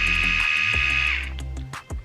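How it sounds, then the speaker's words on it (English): A corded Weiyi or TouchBeauty electric nail drill whines steadily at full speed, a loud close high-pitched motor tone that winds down partway through, leaving a lower hum with a few clicks and handling knocks. "this one is a little louder than my current nail drill"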